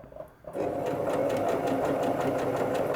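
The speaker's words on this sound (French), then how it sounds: "Et je vais coudre élastique tendu comme ça." Sewing machine stitching stretched elastic onto fabric, starting after a brief quiet moment and then running steadily and close by for a few seconds without pause.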